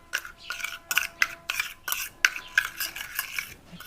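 A spoon mixing and pressing camphor into oil in a small bowl, with a quick run of light metallic scrapes and taps, close and fairly quiet, no voices.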